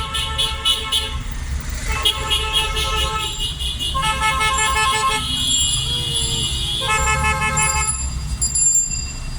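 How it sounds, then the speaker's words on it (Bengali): Car horns honk repeatedly in long, loud blasts over the rumble of nearby traffic and engines. "সিগন্যাল পয়েন্ট না, হর্ন মারছে"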